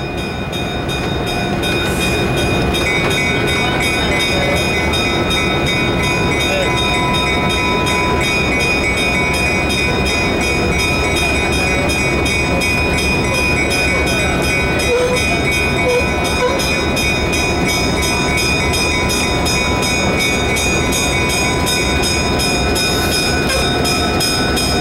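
A classic diesel locomotive, an E or F unit streamliner, rumbles steadily and loudly nearby with a constant engine drone and rolling wheel noise, no voices.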